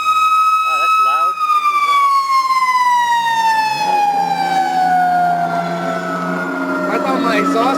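A fire engine ladder truck passes with its siren wailing loud and near, the tone sliding steadily downward as it goes by, with an idling engine rumbling underneath.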